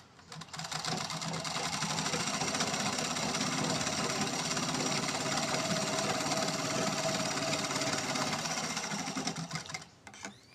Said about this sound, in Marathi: दंडाकडे शिलाई घालून घ्यायची.